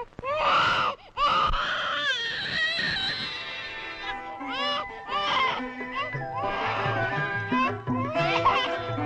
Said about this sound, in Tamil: நான் வேலை கவனத்தில் குழந்தை அழுவதை கவனிக்காமல் இருந்துவிட்டேன்.